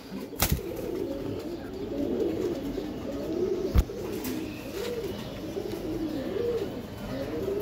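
Racing pigeons cooing in a loft, a pair of birds giving repeated soft, rolling coos in a steady rhythm close by, with a couple of sharp clicks or knocks and no speech.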